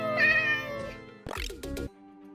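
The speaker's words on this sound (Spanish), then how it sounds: "Ahora cada vez que escuche un gato en Minecraft, sabré que procede de un gato real." A real cat, the source of the Minecraft cat sound, gives one clear, drawn-out meow, followed by a couple of short, harsher chirping cries close to the microphone.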